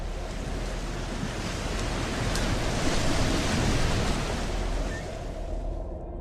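Ocean surf rolls and washes steadily onto a shoreline, a broad continuous roar of breaking waves with a windy edge, loud and close, easing slightly toward the end with no voices.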